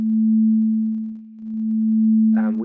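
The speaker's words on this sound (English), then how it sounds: "we can create these edges by just our mouse movement and hear these distortions" A steady synthesized sine tone holds at one pitch, wavering in loudness with a brief dip, then breaks into a harsh buzzing distortion at the end as the amplitude is changed abruptly by mouse movement.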